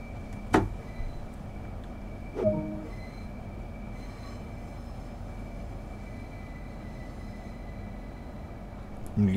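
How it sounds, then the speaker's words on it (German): A Hitachi Class 395 Javelin high-speed electric train in Train Sim World runs with a steady low rumble, a faint constant whine, and a couple of sharp knocks early on, fairly quiet overall. "Dieser Zug ist eine Class 395 Javelin, gebaut von Hitachi in Japan für den europäischen Einsatz."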